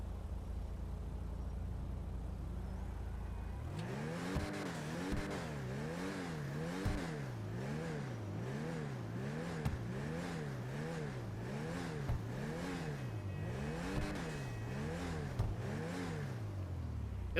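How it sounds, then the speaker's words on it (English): A turbocharged Canis Seminole Frontier SUV in GTA Online revs repeatedly after a low idle, its engine pitch swooping up and down in a steady rhythm with turbo whir, close and continuous. "At least the turbo sound is pleasing"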